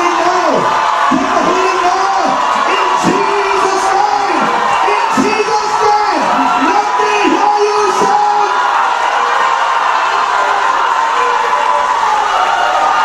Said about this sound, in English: put your hands together for the Lord and make a loud noise unto God